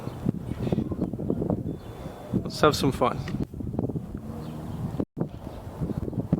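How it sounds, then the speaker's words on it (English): Wind on a hot, windy evening buffets and rumbles across the microphone in uneven gusts, with a person speaking briefly over the noise. "It is a hot, windy evening"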